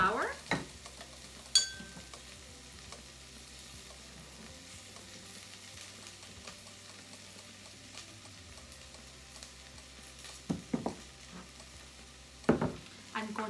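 A spoon stirs flour into cooked onions in a pot for French onion soup. The scraping and clinking is quiet and uneven, with a few sharper knocks over a soft steady sizzle.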